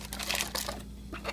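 A plastic shipping bag crinkles and rustles in the hands in short bursts, close and fairly quiet, over a low steady hum.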